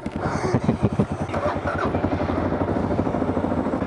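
A motorcycle engine starts up and settles into a loud, close, rhythmic idle with steady low pulsing throughout, and no voices over it.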